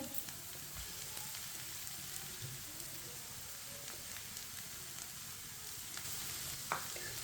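Shredded cabbage and grated carrot fry steadily in a pan, a continuous sizzle with soft stirring scrapes throughout and a brief louder clack near the end, no voices.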